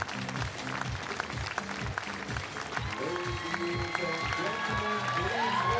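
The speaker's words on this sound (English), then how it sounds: "we can already hear the crowd getting very excited" Crowd at a women's recurve team archery gold final between Italy and Germany in Berlin, cheering and applauding steadily throughout, with an announcer's voice talking over the noise.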